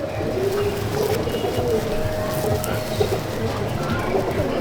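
Pigeons coo in a loft at Hooghly that houses Andhra and Madrasi racing pigeons, their soft murmuring steady and close over a constant background hiss, with no talk.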